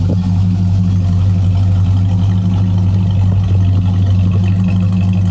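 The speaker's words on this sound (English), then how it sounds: "Them big block Mopars, they just have their own sort of like sound to them." A big block Mopar V8 car engine rumbles steadily at a car show, a loud, close, continuous low throb with no talk over it.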